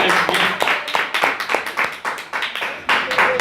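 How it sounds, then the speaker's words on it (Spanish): Church congregation clapping together in a rhythmic, evenly spaced beat during worship, close and fairly loud, with a voice faintly heard at moments. "Un fuerte aplauso, Señor."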